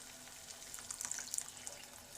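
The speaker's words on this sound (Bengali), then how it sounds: "এবারের মধ্যে আমি আরেকটু জল দেব" Water splashes into a cooking pot on the stove, a short quiet patter and trickle of pouring lasting about a second, heard close but faint without talk.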